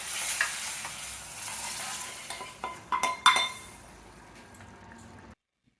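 Chana masala being stirred in a pan with freshly fried chili powder, steady sizzling and frying with scraping and clinks of a spoon against the metal pan, a few louder knocks near the end, then sudden silence.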